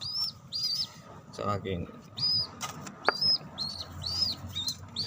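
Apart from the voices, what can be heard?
tippler pigeons cooing and flapping wings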